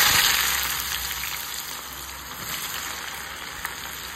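Chopped onion hitting hot oil with cumin tempering for dhaba-style akkha masoor, a loud bright sizzle that bursts at first and settles into a steady frying hiss, no voices.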